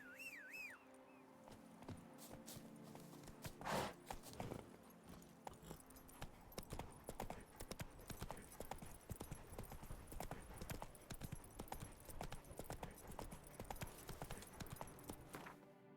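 Rhythmic hoof clip-clop of a horse trotting steadily in The Witcher video game, close and continuous with game ambience and a whistle-like tone near the start.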